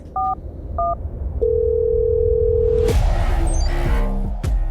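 Two short keypad tones, then a long steady dial tone, followed by a quick run of dialing tones as a number is entered.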